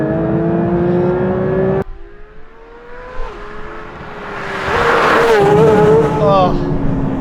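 Porsche 992 GT3 in sport mode, engine idling then cutting out before building into a loud, rising rev with brief tire noise, close by.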